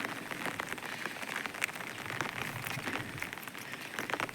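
Steady rain patter with scattered louder drops and crackles, continuous and fairly close, no voices.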